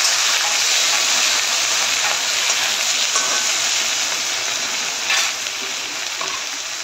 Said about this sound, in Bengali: এগুলো আমি 5-6 মিনিট ভালো করে একটু ভেজে নেব।